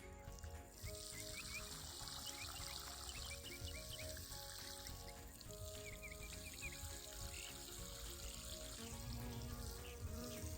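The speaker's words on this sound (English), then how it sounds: "Just water the base of your plants." Water pours steadily onto the soil at the base of celery plants in a garden, a soft continuous splashing trickle, with faint chirping insects in the background.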